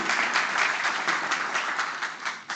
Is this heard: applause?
yes